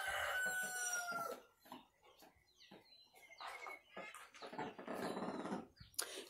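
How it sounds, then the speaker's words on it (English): A rooster crows on a farmstead, a loud nearby call with drawn-out harmonic notes, mixed with clucking fowl and other rustling barnyard sounds. "the only rooster that I have at the moment that has not been aggressive towards me"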